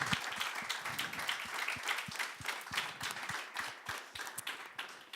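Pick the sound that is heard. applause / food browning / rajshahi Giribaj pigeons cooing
applause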